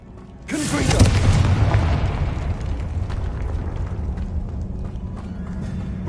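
A Confringo blast spell in Hogwarts Legacy goes off with a sudden loud boom that rolls into a long, rumbling roar and crackle, fading slowly over several seconds.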